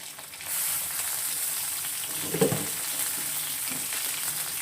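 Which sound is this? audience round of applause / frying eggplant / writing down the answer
frying eggplant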